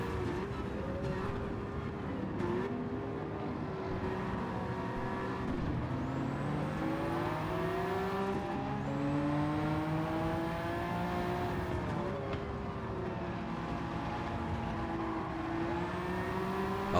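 A car engine revs and shifts through gears in a racing video game, with steady rising and falling whine as it accelerates repeatedly, continuous and fairly prominent with no talking.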